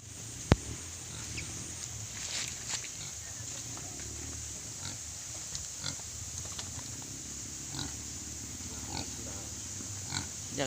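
Piglets on a free-range farm in the Philippines, with soft grunting and squeals scattered over a steady low background and a faint, continuous high hiss.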